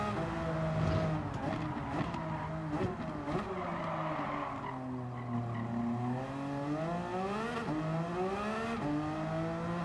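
A race car in Gran Turismo 7 revs and shifts through a hairpin, its engine pitch sweeping down under braking and climbing again on exit, loud and continuous with faint tire noise and no talking.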